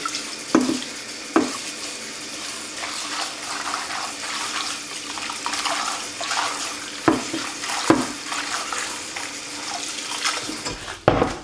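Tap water runs steadily while water spinach (kangkung) is washed in a sink, with occasional louder splashes and knocks over the continuous flow, no talking.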